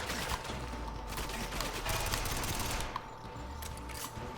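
Rapid gunfire in the video game GoldenEye on PS3, a dense continuous fusillade of shots running steadily over several seconds, loud and close.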